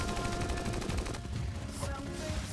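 Rapid automatic gunfire in a pig-themed mobile MOBA game, a dense rattling stream of shots that thins out after about a second, with game effects following.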